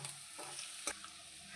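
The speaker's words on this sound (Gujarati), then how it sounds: "હવે આપણે એને મિક્સ કરી દઈશું।" Chicken filling with spices for Chinese samosa is stirred in a pan, giving a faint, soft sizzle broken by a few quiet scraping strokes.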